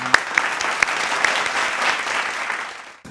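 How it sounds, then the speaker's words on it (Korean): Applause from a church youth worship congregation, a dense burst of clapping that swells and then fades to silence by the end. "우리 예배를 받게 합당하신 주님께 영광의 박수 올려드리겠습니다"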